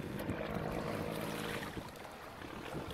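A Vietnamese seafood-buying boat from Binh Dinh heads out to the net-fishing fleet at sea, its powerful engine droning steadily and close amid wind and water noise.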